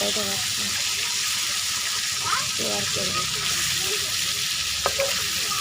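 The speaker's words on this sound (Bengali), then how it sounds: "তো মাছটা ভাজা হতে থাকুক" Fish sizzles in hot oil in a pan, a loud, continuous frying hiss heard up close, with faint speech briefly underneath.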